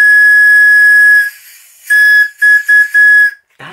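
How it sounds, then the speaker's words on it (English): British candy whistle lollipop blown hard: one long shrill, piercing whistle note, then after a pause a series of three or four shorter toots, loud and close, ending with a brief breathy sound. "So it's a lollipop. Or is it a whistle?"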